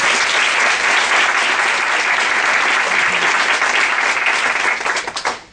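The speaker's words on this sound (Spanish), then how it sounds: "le queremos dar un fuerte aplauso para que vean este calor" An audience warmly applauds a storyteller at a live storytelling event: loud, steady, close applause that holds evenly, then tapers off in the final half-second.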